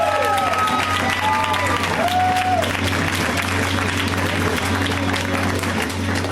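Audience applause and some cheering at a comedy show at UCB in Los Angeles, a steady dense wash of clapping filling the room, with whistle-like tonal calls and a low hum underneath throughout.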